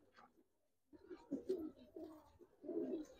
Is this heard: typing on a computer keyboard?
no